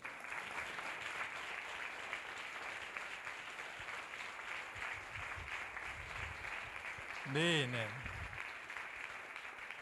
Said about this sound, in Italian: vi chiederei di complimentarvi gli uni gli altri per il sostegno che state dando a questa giornata con la vostra partecipazione con un bel applauso